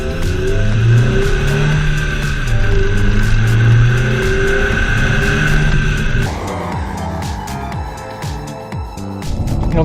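A 2015 Mazda3 gasoline engine growls steadily and loudly while driving on tight, bumpy roads, pitch rising and falling with throttle, then dropping in tone toward the end with no talk over it.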